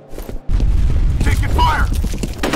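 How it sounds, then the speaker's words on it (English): Grenade blast in the F.E.A.R. multiplayer Combat map Heliport: after a brief lull, a sudden deep boom lands close and loud, then a sustained rumbling roar carries on with gunfire and game voices layered over it. "Grenade out!"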